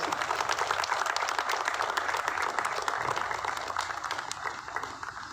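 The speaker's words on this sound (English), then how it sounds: "I request all of you to welcome her with a good round of applause" Spectators at a Run for Unity event in Chennai give a steady round of applause to welcome an Olympian athlete, many hands clapping at moderate volume and gradually thinning out.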